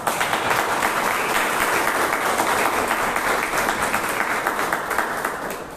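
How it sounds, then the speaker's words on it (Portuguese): Sustained, dense applause fills a church worship service for the pastor, loud and steady throughout with no break and no talk over it. "O senhor merece mais uma linda salva de palmas."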